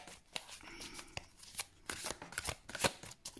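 Guardian angel tarot cards are shuffled by hand in a rapid series of crisp, close riffling snaps and flutters with brief pauses between bursts, no talking over them.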